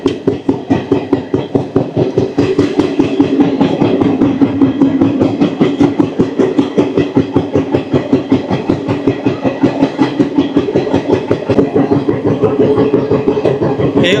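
Tinpahar Rajmahal train running at speed, loud close clickety-clack with a fast, regular wheel beat over a continuous rumble throughout.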